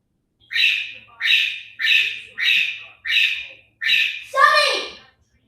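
A pet bird squawks in a regular series of seven loud, close, harsh calls, the last one longer and more drawn out.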